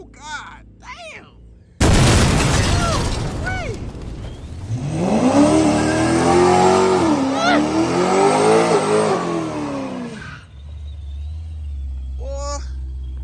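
A twin-turbo Hellcat-class muscle car launches hard down a drag strip, a loud engine roar and sharp pops that rise and sustain for several seconds before fading, with spectators shouting and cheering before and after.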